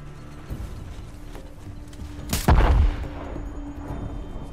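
A single loud gunshot rings out in Uncharted: The Lost Legacy, cracking sharply and then decaying, with faint clicks and game ambience before and after.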